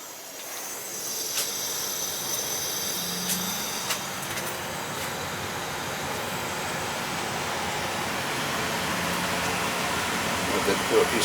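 An old R22 air conditioning system runs outdoors with a steady broad hiss and whooshing fan noise that builds slightly over time. It is close and continuous, and there is no talking.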